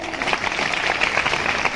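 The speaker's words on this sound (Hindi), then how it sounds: "बहुत अच्छी बात, ताली बजाएं।" A group of children clapping at a women's helpline awareness session in Jhansi, a steady, moderately loud patter of many hands lasting the whole moment, with faint voices mixed underneath.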